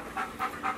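A dog on a leash pants in three quick, breathy bursts, fairly close and moderately loud, with no talking over it.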